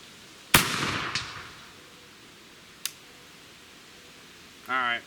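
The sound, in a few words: gunshots from 1853 rifle musket being fired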